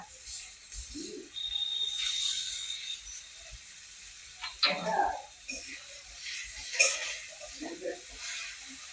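Turmeric and cumin paste frying in oil in a pan, with soft intermittent sizzles and stirring scrapes coming and going at close range, a few louder spurts among quieter stretches.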